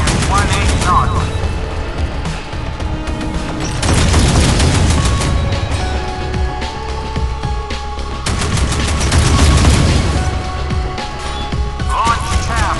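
Heavy naval gunfire and booming explosions from warship weapons in the mobile combat game Modern Warships, aboard the USS Hurricane (PC-3) patrol ship, dense repeated blasts throughout with a spoken voice over the battle noise.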